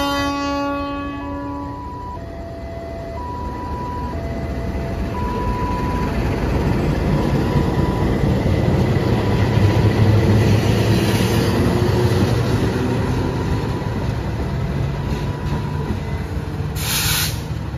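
A train hauled by a CC 206 locomotive rolls past a railway crossing, a steady loud rumble and rail hiss building and holding throughout, with crossing bell tones ringing at the start.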